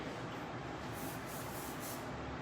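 Hairspray misted onto back-combed hair, a soft continuous hiss lasting the whole short moment, faint and close.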